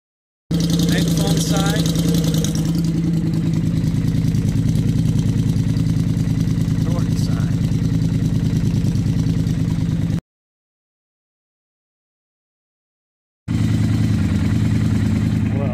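A Triumph Thruxton R motorcycle fitted with Meerkat Norton-style mufflers runs at a steady, loud idle with a deep, throbbing exhaust note. The engine cuts out for a few seconds and then resumes.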